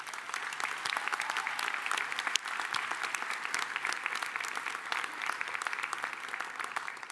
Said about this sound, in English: Let's have a round of applause for the parents and loved ones.